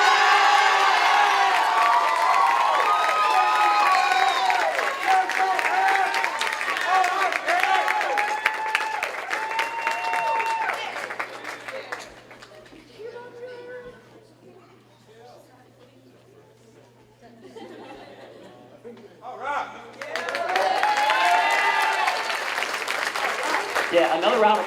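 A school band concert audience applauds loudly with cheers and whoops, the clapping dying down to a quieter patch with scattered voices before swelling again into full, sustained applause.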